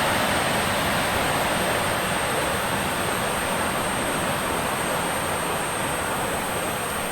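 A steady, loud, continuous roar from the aircraft engine in the X-Plane 11 flight simulator, with a thin high whine on top and no breaks or talk.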